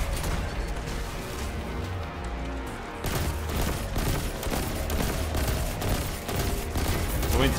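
Rapid hand cannon gunfire in the Destiny video game, a dense stream of sharp shots with crashes and booms that cuts out briefly around the three-second mark, then keeps up loudly to the end.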